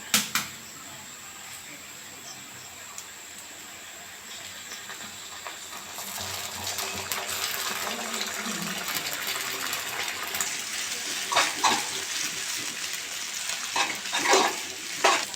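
Sizzling hiss of an egg frying in hot oil with onion and green chilli, steady and fairly quiet at first, then growing louder with crackles and spatters toward the end.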